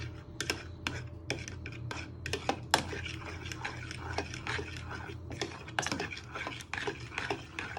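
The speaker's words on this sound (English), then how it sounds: "And you just want to give that a little bit of a stir" Milk and eggs being stirred in a bowl while making a chocolate gateau. A utensil clinks and scrapes quietly against the bowl in irregular taps over low background hum.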